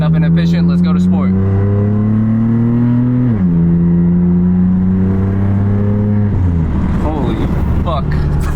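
A BMW M3/M4 with a Maad Maxx exhaust, catless downpipes and a single mid pipe, accelerating hard in sport mode, its loud, close engine note climbing steadily and then dropping at each of two gear shifts before pulling again.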